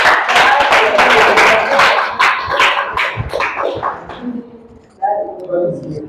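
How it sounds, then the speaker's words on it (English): A lecture audience in a pharmacology class claps together for several seconds, the applause thinning out before a voice begins speaking. "Please let's clap for God, please."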